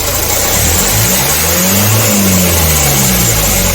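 A car engine being checked for a faulty turbo revs loudly and steadily as the accelerator pedal is held down, a close, continuous mid-pitched roar with a slight rise and fall.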